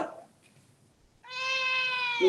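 A house cat gives one sustained, clear meow close by after a quiet moment, its tone rising and holding for about a second.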